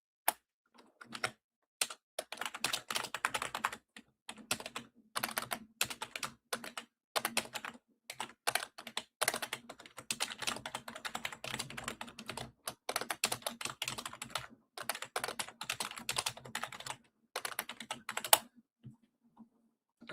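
Someone types on a computer keyboard in irregular bursts of quick, crisp key clicks separated by short pauses. The clicks are close-miked and heard alone, with no talking.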